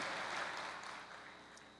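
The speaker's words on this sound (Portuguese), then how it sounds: "Pode aplaudir o Senhor, a Deus, porque Ele cuida de nós." Church congregation applauding, a steady broadband patter of many hands clapping at moderate level, slowly fading over a couple of seconds with no voices on top.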